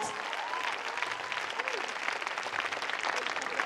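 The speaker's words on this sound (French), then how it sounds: "Clap for the Lord." Church congregation clapping for the Lord at a worship service, dense continuous applause with overlapping claps and faint voices underneath.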